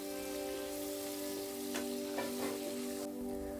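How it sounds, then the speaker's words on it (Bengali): Potato pieces seasoned with salt and turmeric fry in hot oil with a steady, even sizzle, faint and continuous, with occasional small crackles. "আলুগুলো লাল লাল করে ভাজা হয়ে গেছে,"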